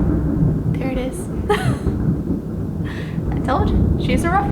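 Low rolling thunder rumbles after a lightning bolt during a storm, a sustained broadband roar under a person talking close to the microphone.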